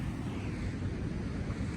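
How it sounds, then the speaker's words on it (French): Large ocean waves break near the shore as a steady, broad low roar with wind buffeting the microphone, continuous throughout; no speech. "il y a des sacrées vagues là"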